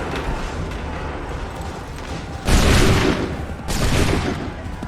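Musket volleys in Assassin's Creed 3, two loud crackling bursts of massed gunfire about a second apart, each decaying into rumbling echo over battlefield background noise.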